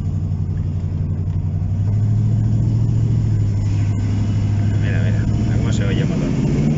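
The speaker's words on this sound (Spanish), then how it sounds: "Se oye el motor." A steady low engine hum from a 1979 Chevrolet Camaro Sport Coupé runs throughout, a smooth continuous drone with faint higher noises on top, no talking.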